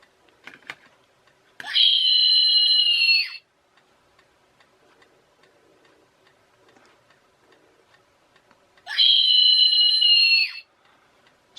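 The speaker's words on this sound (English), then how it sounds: "not only do we get the scream, but you also get all the LEDs light up" A Halloween scary doll's circuit board gives off an electronic scream, two shrill, steady, loud bursts of about two seconds each, separated by quiet with faint clicking and handling noises.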